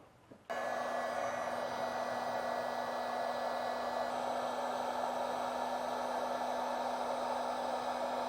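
Heat gun blowing steadily on heat-shrink tubing over a wiring connection to an inline fuse during trailer wiring harness installation, a sudden switch-on followed by a constant close whooshing hiss with a faint tonal hum.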